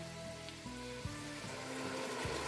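Zucchini and wine sizzle in a frying pan, a steady close crackling hiss that carries on throughout without a break.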